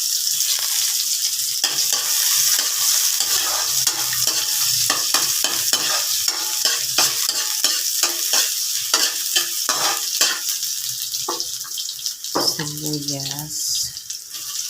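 Ginger sizzling in hot oil in a pan while a utensil scrapes and stirs it in repeated clattering strokes, with a steady crackling hiss underneath.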